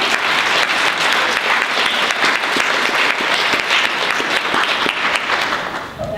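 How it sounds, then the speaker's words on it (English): An audience at a business luncheon applauds a panel in dense, loud, continuous clapping that holds steady for about six seconds and fades slightly at the end, with no voices over it. "let's give our panel a round of applause"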